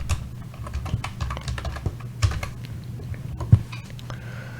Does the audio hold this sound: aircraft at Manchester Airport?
no